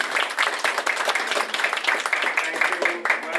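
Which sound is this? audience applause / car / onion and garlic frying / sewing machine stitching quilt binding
audience applause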